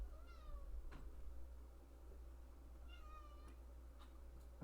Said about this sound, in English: I'm gonna let my cat out.